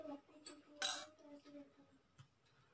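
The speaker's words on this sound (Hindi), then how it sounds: "एक चम्मच लेंगे हम दही" A spoon scooping yogurt in a bowl, faint metallic clinks and scrapes with one louder clatter, close and quiet, no one speaking.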